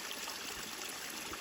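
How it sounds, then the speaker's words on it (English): Mountain spring water, swollen by overnight rain on the Appalachian Trail, gushes from a pipe in a steady, dense rushing stream heard up close, with no voices. "All that rain last night, making it pour like a high pressure faucet."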